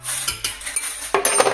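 A fork beats an egg in a bowl, quick clinking taps and scrapes of metal against the dish, close and fairly loud, with no talk over it.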